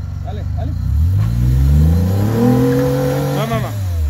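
A Jeep Rubicon engine revs up hard and climbs in pitch, close by, on an off-road trail in Moab, with a person talking over it.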